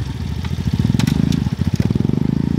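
A 125cc motorcycle, an oversized Honda Grom, rides past with a steady, buzzing mid-pitched engine drone that pulses rhythmically and is loud and close, with a few brief clicks on top.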